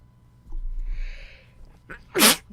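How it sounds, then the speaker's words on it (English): A single loud, sharp sneeze bursts out near the end, preceded by a brief breathy intake and a soft hiss, close to the listener. "I gotta sneeze."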